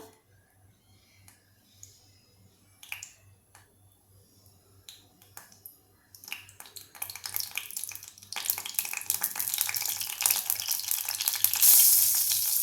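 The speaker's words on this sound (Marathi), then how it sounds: "आता ही मोहरी फुटते" Mustard seeds crackle and pop in hot oil, sparse at first, then building into a dense, steady sizzle with rapid pops, close up.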